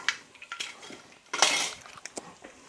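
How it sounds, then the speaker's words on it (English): Lamb rogan josh being stirred in a pot, with scattered metal spoon clinks and scrapes and one louder scraping burst midway, close and fairly quiet. "Again, give that a stir."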